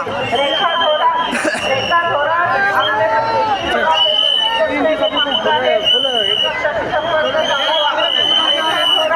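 A huge crowd gathered at Bhima Koregaon beside the Bhima river fills the air with loud, dense chatter and overlapping voices, with shouts and whistle-like calls rising throughout.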